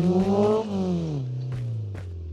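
A game vehicle in Call of Duty Blackout revs high and then winds down to a steady engine drone, with a couple of brief clicks or thumps near the end; no one speaks.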